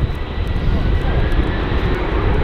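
An EgyptAir jet takes off down runway 23 at Manchester Airport, a loud, steady roar of engines at full thrust that fills the whole short stretch, heard close from the spotting area.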